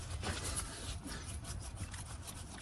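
A front brake caliper on a Ford Police Interceptor Utility is wiggled loose, giving a close, continuous scraping and rubbing of metal parts for a few seconds.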